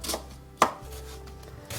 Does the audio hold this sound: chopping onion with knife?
yes